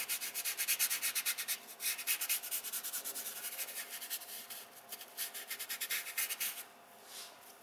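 Brush or cloth rubbing paint colors onto a landscape painting, a steady run of quick scratchy back-and-forth strokes, close and fairly quiet, continuing almost without pause before easing off at the end.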